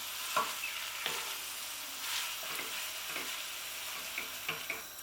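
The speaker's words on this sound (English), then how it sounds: "Give it a good stir." Soya mince frying in a pan and being stirred: soft scraping strokes come every second or so over a quiet, steady sizzle, close up and gentle, with no talking.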